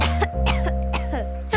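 A child gives a few short, hoarse coughs close by, loud and evenly spaced with brief pauses between them.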